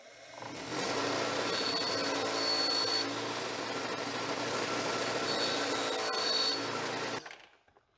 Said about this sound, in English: Let's go deburr this.